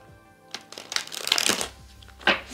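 A tarot deck is shuffled close up, a rapid fluttering riffle that builds and stops, followed by a short second burst.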